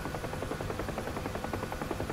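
A helicopter flies in the combat flight simulator DCS World, its rotor thumping in a fast, regular pulse over a constant engine drone, steady and fairly close with no talking.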